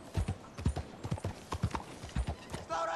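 Horse hooves clip-clopping in Red Dead Redemption 2 on PS4: a brisk, regular trotting beat of sharp hoof strikes, close and clear, with faint murmuring talk in the background.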